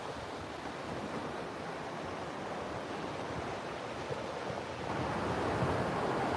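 Ocean waves crash and wash ashore in a continuous, fairly close surf roar with some wind noise, swelling slightly louder toward the end, with no voices.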